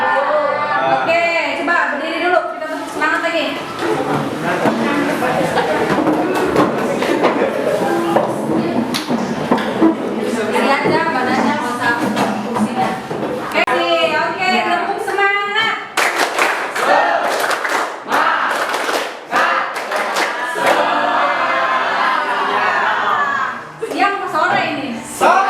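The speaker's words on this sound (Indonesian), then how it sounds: "Kita tepuk semangat lagi" A group of students stands in a classroom doing a rhythmic tepuk semangat clap chant, sharp hand claps in patterned bursts with voices mixed in, loud and close, followed by a teacher talking.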